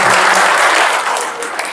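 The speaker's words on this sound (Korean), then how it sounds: "마지막으로 저희 좋은 강연 진행해 주신 조은호 대표님께 마지막으로 박수 한 번만 더 치고" Audience applause after a lecture at a book launch event, a loud dense burst of clapping from a room of listeners that tapers off slightly within two seconds.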